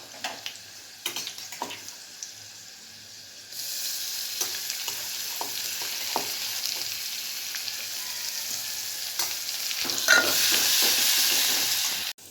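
Ground masala paste hits hot oil over garlic that has already turned red, letting out a loud steady sizzle and hiss that swells partway through and stays bright, with light clinks of a stirring spoon.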